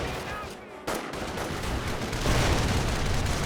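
A grenade and gunfire in the World War II strategy game Company of Heroes, dense rattling gunfire and blasts building into a loud, continuous battle roar with a sharp burst near the start, partly under talk.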